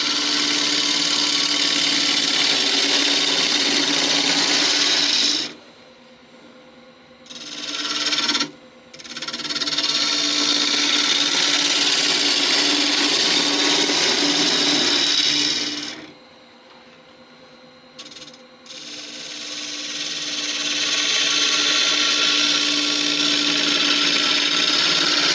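Wood lathe gouge hogging wood from an end grain bowl, a loud, rough tearing scrape that runs continuously in long stretches, broken by two short pauses where the cutting stops, close up with no speech.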